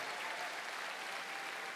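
Applause from a Rock of Fame awards-night audience, a brief dense wash of clapping at a low, even level with no voices.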